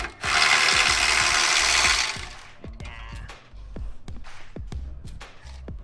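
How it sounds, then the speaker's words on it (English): Impact wrench on old, grimy exhaust bolts of a Nissan 350Z HR during a Z1 Touring exhaust install: a loud, steady two-second mechanical buzz, then a run of sharp, evenly spaced metallic clicks close by, with no talking. "You need an impact there,"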